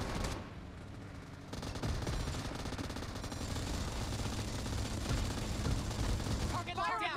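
M249 machine gun firing in PUBG Mobile, a dense, sustained stream of rapid gunfire running the whole stretch under game noise, without pause.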